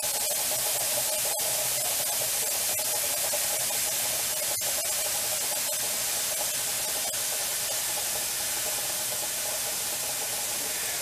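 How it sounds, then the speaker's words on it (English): Steady, loud hiss of steam escaping from the heating coil of a trashed commercial hot water pressure washer, with no water flowing; a continuous broadband rush throughout, broken by a few brief clicks. "That's why it's just steam and no water coming out."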